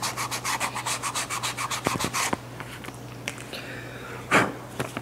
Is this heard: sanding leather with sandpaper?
yes